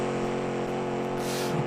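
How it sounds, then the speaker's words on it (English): A classic 1960s-style muscle car built in Automation does a burnout in BeamNG Drive, its engine droning loud and steady with a rising hiss of tyre smoke near the end. "Can do a big burnout"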